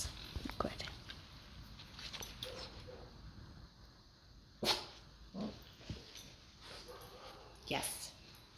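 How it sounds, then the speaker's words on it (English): A dog gives several sharp barks at irregular intervals, with soft whispering and quiet movement between them. "Dog barked. She looked at me."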